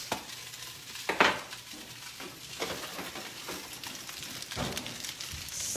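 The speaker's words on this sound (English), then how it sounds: "Sizzling, look at that." Salmon and parsnip fries in a hot pan just out of the oven, sizzling softly with a few sharper crackling bursts and light scraping, no talking.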